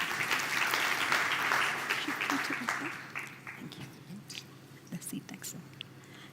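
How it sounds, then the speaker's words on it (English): An audience at a launch event applauds a guest invited onto the stage. The steady, dense clapping is loud at first, then thins out and fades over the last few seconds into scattered claps and room murmur. "Please give him a warm round of applause."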